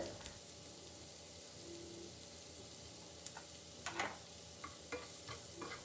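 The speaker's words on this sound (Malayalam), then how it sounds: "ഉള്ളി നന്നായിട്ടൊന്ന് സോട്ട് ചെയ്ത് വരണം." Onions sautéed with salt in a pan for paneer butter masala give a faint, steady sizzle, punctuated by a few sharp clicks and scrapes of stirring, with no voices.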